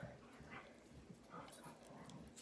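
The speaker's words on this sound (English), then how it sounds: "My dogs are going to start being noisy, of course" Dogs whimpering and whining in soft, high, repeated bursts, fairly quiet and a little distant.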